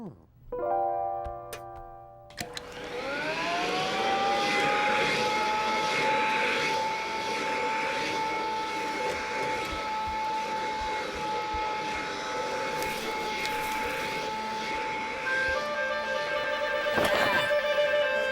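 A cartoon vacuum cleaner switches on after a brief musical sting, its motor whine rising quickly and then holding as a loud, steady droning hum for the rest of the clip.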